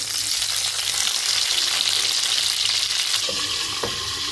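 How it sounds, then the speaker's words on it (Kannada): Chopped ingredients fry in hot oil for a tomato sambar, giving a loud, steady, close sizzle that holds without pause for the whole stretch, with a couple of faint clinks near the end and no talking. "ಸ್ವಲ್ಪ ಒಂದು 2 ನಿಮಿಷ ಇದನ್ನು ಈ ಥರ ಎಣ್ಣೆ ಒಳಗೆ ಫ್ರೈ ಮಾಡ್ಕೋಬೇಕು."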